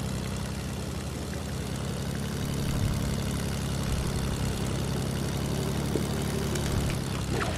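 Propeller airplane engine in Fortnite Battle Royale Season 7, a continuous low droning hum that holds steady and close without pause, with no talking over it.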